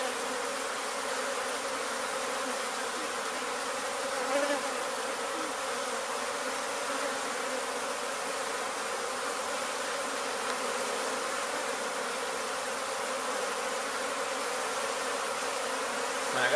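A honey bee swarm with several queens, found during a bee removal in Weslaco, Texas, hums as a dense, steady buzzing drone that holds for the whole stretch with no voices.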